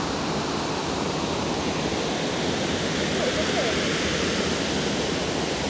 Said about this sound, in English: Now we are approaching the big waterfall, which I've been dying to see.